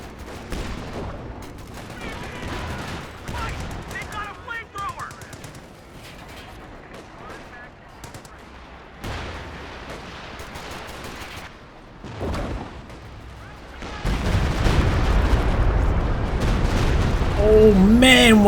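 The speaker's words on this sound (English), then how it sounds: "what a walking Stuka barrage!" Walking Stuka dive bomber barrage in Company of Heroes 2, with repeated booming explosions and crackling gunfire that swell louder toward the end while a commentator talks over the battle.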